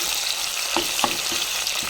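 Steady, loud sizzling of ginger garlic paste frying in hot oil, with a few soft taps of stirring.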